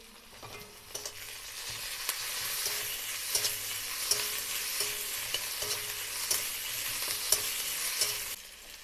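Ginger garlic paste hitting oil with deeply browned onions in a pan, a steady close sizzle broken by regular scrapes and knocks of a spoon stirring.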